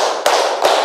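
Two quick, loud, near claps ring out during a counted clapping exercise for a group, each a sharp broadband slap over a constant background wash.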